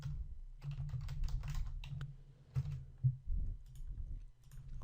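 Someone types on a computer keyboard in quick, close bursts of clicking keys with brief pauses between, quiet over a low background hum.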